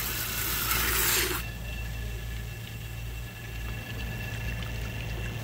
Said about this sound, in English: So I'm gonna switch over here and just spray this back into my clean water.